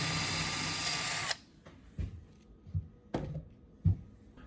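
A drill meeting resistance as it bores through a knot in wood, a loud high whine for over a second that stops abruptly, followed by a few scattered knocks and clatters.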